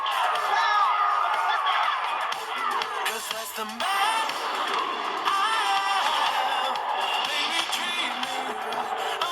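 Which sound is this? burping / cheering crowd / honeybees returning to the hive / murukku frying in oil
cheering crowd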